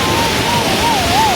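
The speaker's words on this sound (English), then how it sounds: "And this is the waterfall." The waterfall at Udear Springs in Verna, Goa roars as a steady, loud wash of broadband water noise, with a faint voice briefly audible over it.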